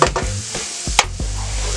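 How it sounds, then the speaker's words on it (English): Garlic sizzles in a hot pan while being stirred, with a sharp scrape and clatter, a few soft knocks and a steady frying hiss close by. "Gotta keep that moving, you don't want the garlic to burn."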